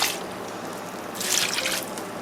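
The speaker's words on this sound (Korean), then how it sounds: "멸치 액젓 2컵 넣어줍니다." A short pour of anchovy fish sauce splashes and trickles into kimchi seasoning in a bowl, close by, with a brighter burst of splashing midway.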